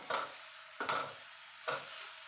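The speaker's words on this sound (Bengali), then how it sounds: "মিষ্টিটা আপনাদের স্বাদ মতো দিয়ে দেবেন যে যেমন মিষ্টি খেতে পছন্দ করেন দিয়ে এবার নাড়তে থাকবো" Sago laddu mixture with sugar stirred in a pan, three distinct scraping strokes at a steady slow rhythm with a light sizzle underneath, close and alone without any talking.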